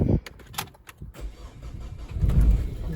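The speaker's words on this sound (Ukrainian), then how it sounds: "Зараз ще спробуємо завести машину." A car engine cranks in short bursts, then catches and settles into a low rumbling idle, heard close up with no talking.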